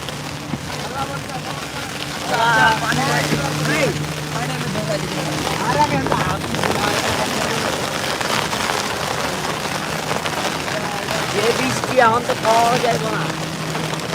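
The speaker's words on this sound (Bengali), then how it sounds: "তো অনেক বৃষ্টি পড়তেছে" Heavy rain falls in a steady, broad hiss that drums on surfaces and swells a little partway through, with voices talking intermittently over it.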